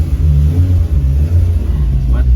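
A car engine rumbles low and steady, revving slightly as the vehicle pulls out of a shop, close by.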